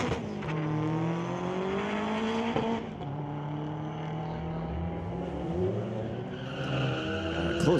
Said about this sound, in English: Close race going on.